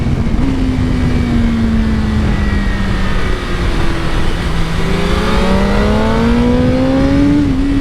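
A BMW M 1000 RR superbike engine on a road ride runs loud and continuous, its pitch sliding up and down with throttle and gear changes over rushing wind noise.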